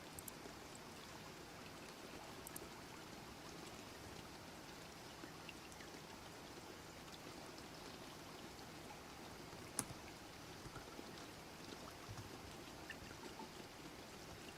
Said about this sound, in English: Is it raining today? It's raining.